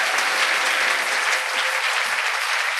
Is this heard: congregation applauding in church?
yes